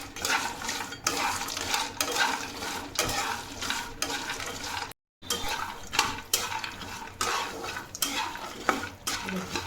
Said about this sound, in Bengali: এবার এগুলোকে বেশ নেড়ে চেড়ে ভালো করে ভেজে নেব।